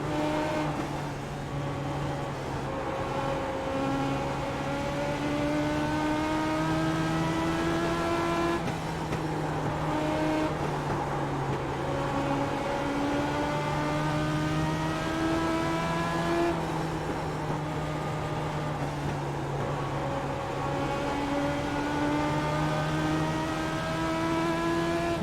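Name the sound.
race car engines in iRacing video game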